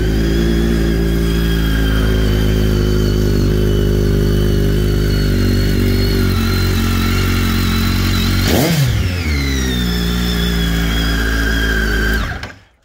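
A 2011 BMW K1300S motorcycle idles with a steady, loud engine hum, then a sharp throttle blip revs it up and back down before it settles and cuts off at the end.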